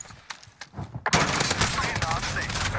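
Video game gunfire, quieter shots at first, then a sudden loud, sustained burst of rapid fire with a voice underneath.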